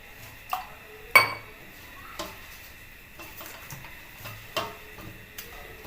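Heavy iron tawa griddle set down on a kitchen stove to heat: a handful of sharp metallic clinks and knocks scattered over a few seconds, quiet and close, with no one talking.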